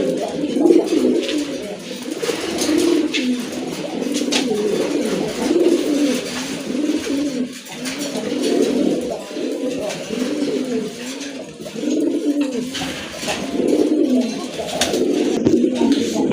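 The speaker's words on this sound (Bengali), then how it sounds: "গ্রিজেলের একটা মাদি কবুতর" Grizzle pigeons, including a female bird offered for sale, coo steadily and repeatedly in soft throaty phrases that overlap through the whole stretch at a close, moderate level.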